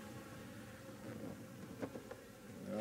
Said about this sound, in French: Je fais attention de ne pas écraser l'abeille.